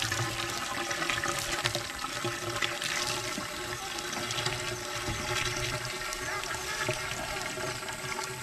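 Clear water rushing fast and steadily from a DIY deep well pipe, a constant hissing gush with slight surging, fairly near and moderately quiet, with no talking over it.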